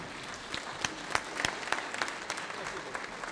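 Audience applause for a veteran Ukrainian folk ensemble at an anniversary gala, moderately distant clapping with a few sharper individual claps standing out over a steady wash.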